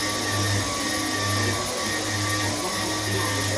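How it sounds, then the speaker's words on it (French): A vacuum cleaner runs steadily, close and fairly loud, sucking up dog hair in a home, with a constant whine over a low motor hum and no voices. "il passe vite fait l'aspirateur parce que les chiens ont mis des poils partout"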